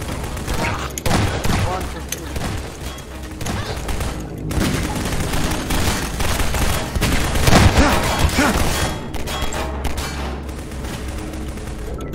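Dense gunfire and bursts of shots from a raid on a theater in a Half-Life 2 roleplay game, loud and continuous with booms and some overlapping voices.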